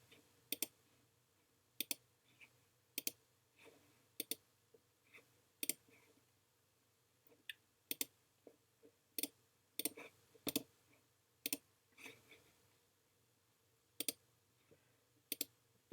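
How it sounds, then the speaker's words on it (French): Sharp mouse clicks on a computer, spaced irregularly as single and double presses, close and clear over a faint steady hum with no speech. "Je clique sur le bouton Ajouter."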